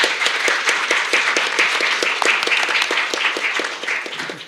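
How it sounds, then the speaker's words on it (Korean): A seminar audience applauds in a hall, many hands clapping in a brisk, fairly even rhythm that holds steady and eases off slightly toward the end. "다시 한번 박수로 환영해 주시죠."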